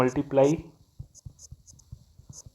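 Chalk or marker writing on a board during a physics lesson, a series of short taps and scratchy strokes following a voice.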